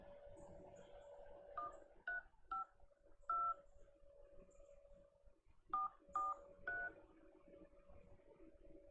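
A self-hosted home phone line dials out in a series of distinct DTMF keypad tones in two bursts, with a low steady hum running underneath.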